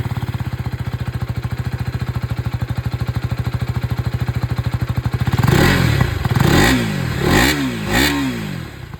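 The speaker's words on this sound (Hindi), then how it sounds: "इंजन की यहाँ पर जो आवाज़ है, एग्जॉस्ट साउंड, वो भी मैं आप लोगों को सुना देता हूँ" A KTM Duke 250 motorcycle engine idles loud and close with a fast, steady thumping exhaust beat, then revs sharply in several rising and falling bursts.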